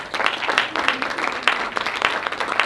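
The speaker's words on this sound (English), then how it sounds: "Please give her a big round of applause." Applause from the audience at a women's excellence awards ceremony in Singapore, as an awardee is called up on stage; dense, continuous hand clapping from a sizable crowd with no talking over it.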